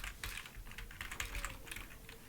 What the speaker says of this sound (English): So I'm just going to type in pay controller